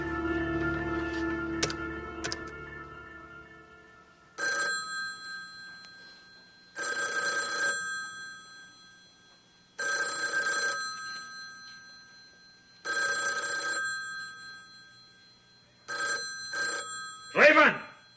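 An old-style telephone bell rings insistently in a hotel room, sounding in long regular bursts separated by short silences, with people talking in the early part and toward the end.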